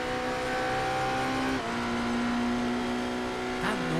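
A race car engine on the Le Mans circuit in a racing video game holds a steady high drone, with a brief gear change midway and a rising rev near the end.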